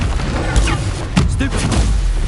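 The Confringo fire spell is cast in Hogwarts Legacy, a fantasy video game, giving sharp explosive bursts. Two main booming hits land about half a second apart, with lighter crackling impacts in between during combat.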